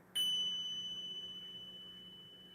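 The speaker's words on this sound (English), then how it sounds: "And I'm going to ring the bells one more time." One clear bell strike rings out with a sustained pure tone that slowly decays across the quiet clip.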